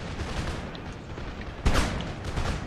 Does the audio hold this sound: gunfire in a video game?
yes